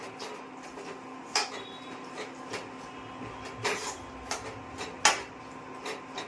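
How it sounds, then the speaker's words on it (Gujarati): Jaggery being stirred into a raw mango curry: soft, irregular clinks and scrapes of a spoon against a pot over a low background hum, with a few sharper knocks. "હવે ગોળ મિક્સ કરી દેવાનો"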